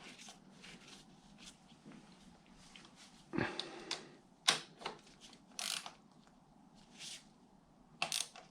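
Ratcheting wrench work on the engine of a Kawasaki Ninja H2 motorcycle: scattered clicks and metallic clatters with a few sharper knocks, close by, with no talking.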